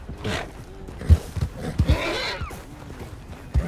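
A horse in Red Dead Redemption 2 whinnies close by, with a few clip-clopping hoof thuds and snorts scattered around the neigh, fairly quiet overall.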